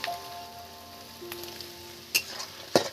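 Tomato paste sizzles in a hot pan while cooking a potol chingri (pointed gourd and prawn) dish, a soft continuous frying crackle broken by a couple of sharp clinks near the end.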